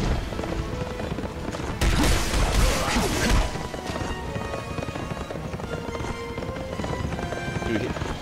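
Galloping horse hoofbeats in the video game Berserk and the Band of the Hawk, a steady clip-clop rhythm that runs throughout, with a louder burst of crashing impacts partway through.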